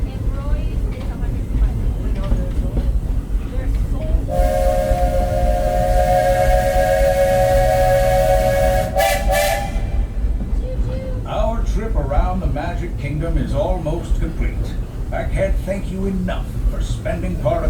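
Magic Kingdom railroad steam train running, with a loud steam whistle that sounds for about five seconds midway, then a couple of short bursts. Rumbling movement and talk from people on board continue underneath.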